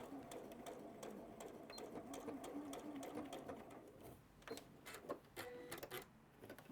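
A sewing machine runs a French seam on a garment in a quilting studio, a fast steady whirring stitch that stops and restarts in short bursts, close but quiet, with some talk in the room.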